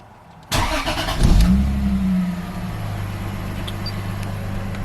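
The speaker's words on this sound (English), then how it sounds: "I'm gonna start the car again" A Lexus IS300 Sportcross engine cranks and starts abruptly, then revs briefly and settles into a steady, close idle hum with no talking.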